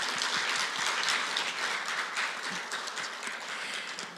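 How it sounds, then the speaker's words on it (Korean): A crowd of guests at a university entrance ceremony applauds steadily, many hands clapping together in a sustained, even wash of sound that fades slightly toward the end. "참석해주신 모든 귀빈들께 다시 한번 큰 박수 부탁드립니다"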